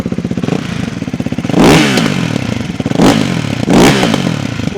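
Ducati Hypermotard 698 Mono with a Termignoni exhaust, warmed up, runs loud at a lumpy single-cylinder idle and is blipped in three sharp revs, close to the microphone.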